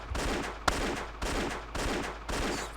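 Gunfire bursts in Indiana Jones and the Infernal Machine, King Solomon's Mines level: several dense, sustained volleys with brief gaps between them, moderately loud, with one sharp crack standing out near the start.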